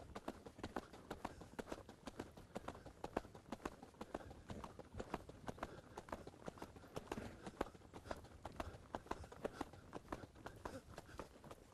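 Hooves of a horse in an uncertain trot strike the ground in a continuous, fairly faint rhythmic clip-clop with no clear voices.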